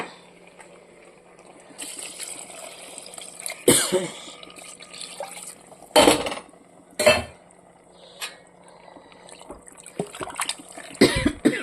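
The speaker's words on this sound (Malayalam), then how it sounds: "നമുക്ക് ബീഫ് വേവാൻ ആവശ്യമായിട്ട് വെള്ളം ഒഴിച്ചു കൊടുക്കാം" Water trickles and pours into a cooking pot of beef for curry, with occasional clanks of metal and a couple of coughs breaking through.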